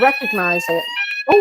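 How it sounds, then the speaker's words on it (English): A fire alarm sets off a loud, steady electronic beeping with sharp repeated tones, apparently triggered by burnt toast, sounding over a woman's close, ongoing speech. "that's my fire alarm."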